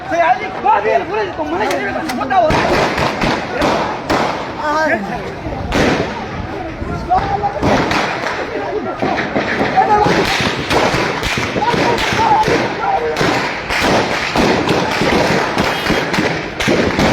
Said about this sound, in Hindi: ये आप देख सकते हैं कि फायरिंग हो रही है।